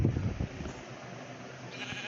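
Sheep bleating on a farm, a couple of short wavering calls near the start that fade into a steady background murmur, with no one talking.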